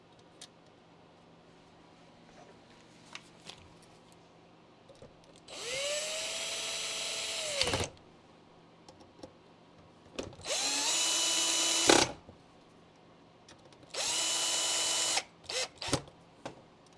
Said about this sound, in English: let's put our screws in